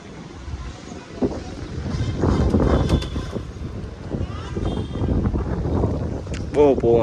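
Strong wind gusting outdoors where pigeons are being flown, a steady low rumbling buffet across the microphone that swells and surges, loud and close, with a voice faintly present.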